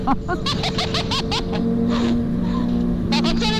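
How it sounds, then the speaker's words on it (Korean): A sportbike, a BMW S1000RR or Yamaha R1, idles with a steady low exhaust drone beneath close conversation and laughter. "당신 오랜만에 배기음 들으니까 어떠셔?"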